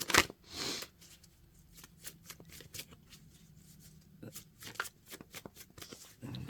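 Tarot cards are shuffled by hand at close range in quiet, dry riffles and soft slaps, with a burst of crisp rustling at the start and more shuffling through to the end.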